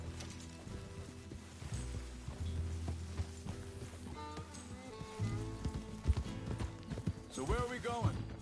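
Horse hooves clip-clop steadily while riding in Red Dead Redemption 2, a rhythmic trotting patter under ongoing talk and game music, with the horse's snorts and whinny-like sounds toward the end.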